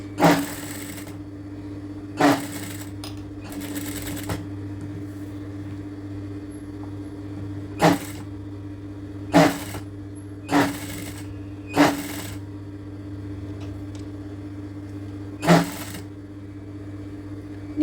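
A sewing machine runs an overlap stitch on puff-style sleeves in short bursts of about a second, separated by pauses, with a constant low motor hum underneath, close and clear.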